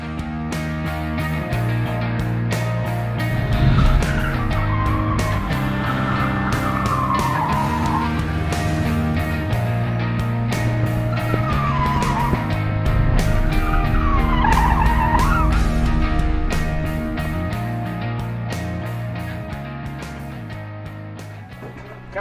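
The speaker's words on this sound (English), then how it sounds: "now we're actually moving on to the Ford 180s" At a stunt driving school, a Ford car spins through 180-degree turns, its engine revving hard while the tires squeal in long rising and falling skids, loud and close.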